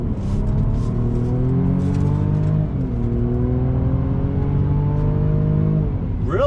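A 2021 Mercedes-Benz E 350 luxury sedan accelerating hard on throttle, heard from inside as a loud, steady engine drone that climbs in pitch, dips briefly at a gear change, then rises again.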